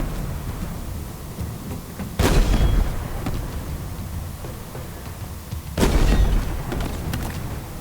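A tank gun fires in Halo Infinite, two heavy booming blasts a few seconds apart over constant in-game rumble and ambience.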